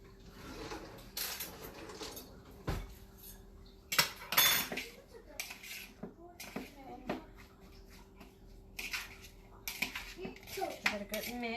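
Clattering utensil scrapes and bowl knocks as enchilada filling with onion and deseeded peppers is stirred and mixed in a bowl, irregular clinks and taps close by, with a voice talking between them.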